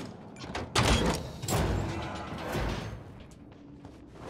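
A door opened with a key in Dying Light 2, a series of heavy mechanical thumps and clanks followed by a dragging, rumbling swing, fairly close and loud, with no talk over it.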